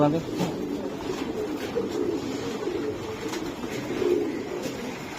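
A racing pigeon coos in low, throaty pulses beside a steady hum of background noise, with someone talking over the calls.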